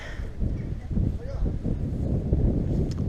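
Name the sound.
wind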